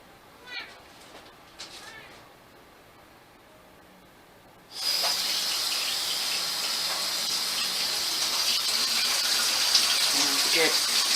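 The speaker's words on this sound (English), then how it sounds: "go ahead and wash my hands, get that extra dough off my hands" Tap water gushing into a sink while dough is washed off hands during Armenian Easter bread baking, starting suddenly after a few seconds of quiet handling sounds and then running as a steady loud hiss, close by.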